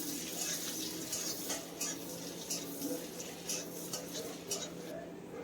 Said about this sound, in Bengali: এখন এই পেঁয়াজটাকে হালকা করে একটু ভেজে নেব।